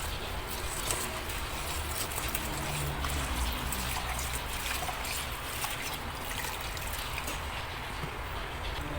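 Water running from a tap while something is rinsed and washed in a home kitchen, a faint steady trickle and splash continuing the whole time with no talk over it.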